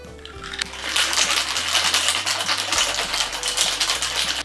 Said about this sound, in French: On va pouvoir mettre le couvercle et on va venir mélanger tous nos ingrédients